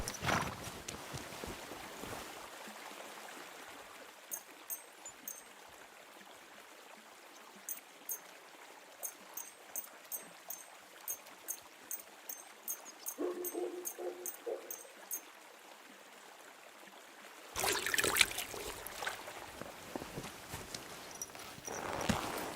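A horse's hooves clop in a steady walking rhythm over a background stream, with a louder rustling burst near the end.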